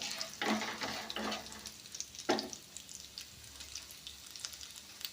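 Two dried red chilies dropped into hot oil for a tomato egg fry, crackling and sizzling in a few bursts with stirring scrapes, close and fairly quiet, then settling into a soft steady fry.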